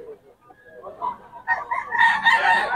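A ten-month-old stag rooster at a rooster farm crowing nearby, a rising then sustained cock-a-doodle call with clucking beneath, close and fairly loud.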